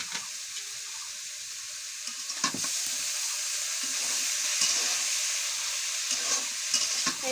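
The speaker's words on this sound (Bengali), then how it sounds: "লাল লাল হয়ে গেছে পেঁয়াজ। দেখুন শাকগুলো দিচ্ছে" Reddened onions and leafy greens fry in a pan while being stirred, giving a continuous moderate sizzle broken by occasional scraping clicks and knocks, with no talking.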